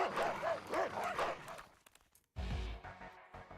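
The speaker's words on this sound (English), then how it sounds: "The moment you hear the distant barking" A dog barks in the Fate Grand Order video game, a rapid run of yappy barks up front that fades into a brief silence before a low rumbling thud and background noise follow.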